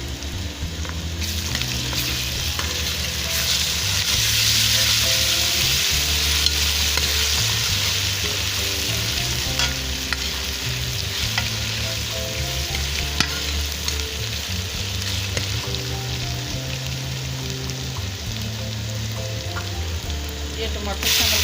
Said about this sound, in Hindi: ये प्याज फ्राई हो गया। ये लहसुन अदरक की पेस्ट शामिल कर रही हूँ।